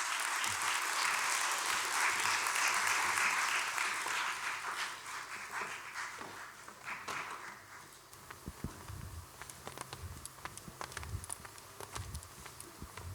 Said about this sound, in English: Can we have a huge round of applause for our panelists?